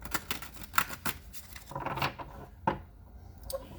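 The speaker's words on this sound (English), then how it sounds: "One more shuffle." Soft, rapid papery riffling and light taps of tarot cards being shuffled, close and quiet, with a few sharper snaps.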